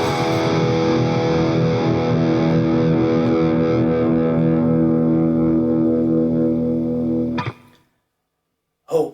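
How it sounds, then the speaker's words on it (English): An electric guitar through an amplifier and a distortion pedal sustains one loud, thick power chord for about seven seconds, then cuts off sharply, followed by a brief silence and another strum. "You just plug your guitar into an amplifier, stick a distortion pedal on,"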